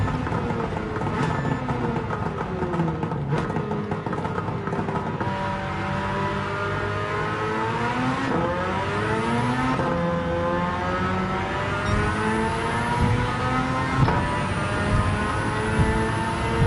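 Suzuki Cappuccino with a 13B rotary engine swap in Gran Turismo 7, revving loudly and continuously with rising and falling pitch sweeps through gear changes, no talking over it.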